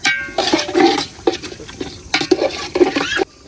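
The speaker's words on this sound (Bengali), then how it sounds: "এখন এই মশলা দিয়ে এটি ভালো মতো একটু ভাজাম" Spices and ginger paste are stirred and fried in a pan, making repeated scraping strokes over a soft background sizzle. The cooking sounds are close and loud, and nobody talks.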